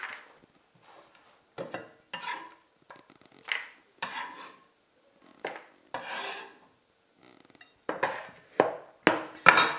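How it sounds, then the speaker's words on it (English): Walnuts tipped into a bowl for a celeriac and lentil salad, giving a run of dry clattering and rattling bursts that grow louder and denser toward the end, with no talk over them. "Adding the nuts into the bowl."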